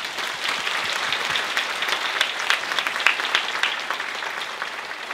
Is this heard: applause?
yes